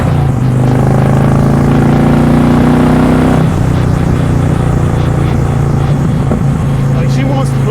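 An Indian Challenger 108 motorcycle engine pulls hard under acceleration while riding, fitted with an aftermarket intake. The steady, loud drone rises in pitch, then drops sharply at a gear change and climbs again, continuous throughout.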